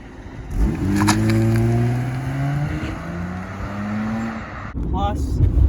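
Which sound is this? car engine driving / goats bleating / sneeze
car engine driving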